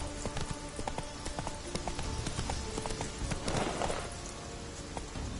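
The horse Roach gallops in a video game, its hooves drumming in a quick steady rhythm against soft background ambience.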